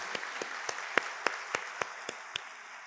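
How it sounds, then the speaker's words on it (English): An audience at a university convocation in Lahore applauds graduates with sparse, evenly spaced claps, about nine distinct hits, moderately close and without talk. "Please have a round of applause for these graduates."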